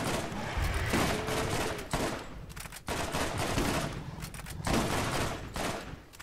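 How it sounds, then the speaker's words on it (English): Shotgun blasts in Borderlands, several loud close shots spaced about a second apart within dense, continuous gunfire and game noise. "Take those chunks out of your health with a goddamn shotgun."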